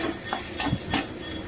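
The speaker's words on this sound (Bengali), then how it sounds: "দিয়ে দিচ্ছি একটু গোলমরিচের গুঁড়ো, দিয়ে ভালো করে আমি মিক্স করে নিচ্ছি" Maggi noodles with ground pepper being stirred in a pan, several short scraping strokes of a spoon or spatula against the metal over a faint sizzle, close and moderately quiet.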